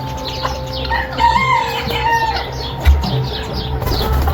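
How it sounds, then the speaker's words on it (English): A duck calls repeatedly, with fowl-like clucks and short cries close by outdoors, alongside chirping birds and a steady low background hum. "What are you doing, Crazy Duck?"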